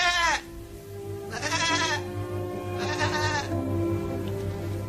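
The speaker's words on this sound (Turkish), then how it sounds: "Anne keçi de içi rahatlayarak meleyip gitmiş" A goat bleats three times, loud and close, each call a wavering cry, with a steady low hum in the background.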